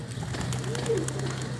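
A single soft pigeon coo comes from a rooftop flock of red pigeons, heard briefly over a steady low hum.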